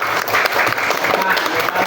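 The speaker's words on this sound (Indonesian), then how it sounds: "Tepuk tangan buat kelompok 2" Classroom applause for a student group after presenting their posters: steady, dense clapping from many pupils, loud and continuous throughout, with voices mixed in.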